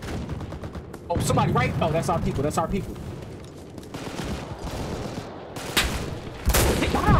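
Dense gunfire from the Enlisted battlefield: rapid bursts and heavy shots pile on one another with a couple of loud close blasts near the end, while a person speaks briefly.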